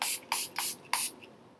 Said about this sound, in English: And you get a fine mist